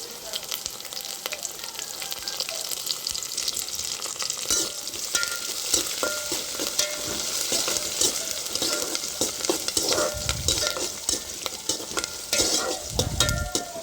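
Curry leaves crackle and sizzle in hot oil as a tempering for a potato gravy curry, with steady frying hiss and occasional scrapes and clinks of a stirring utensil against the pan.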